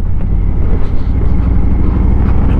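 A Harley-Davidson Road King motorcycle on the road, its engine rumble buried in loud, constant wind buffeting against the microphone, with no clear voices.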